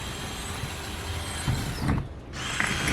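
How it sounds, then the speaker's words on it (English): A power drill bores holes into a van for a water intake, grinding loudly and continuously, with a short lull before it starts up again. "It's gonna be loud with the drill, but I'll show you anyway."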